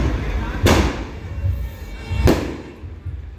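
Two sharp firecracker bangs go off at a wedding procession in a housing society, about a second and a half apart, loud and close, over a low murmur of background noise.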